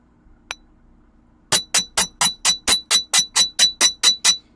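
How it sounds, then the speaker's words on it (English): A hammer pounds wire flat on a metal bench block for a mermaid scale necklace: one light tap, then a steady run of about a dozen sharp, ringing metallic strikes at an even rhythm, close and loud. "hold one end of it and put the other end of it on the bench block and just pound it with my hammer"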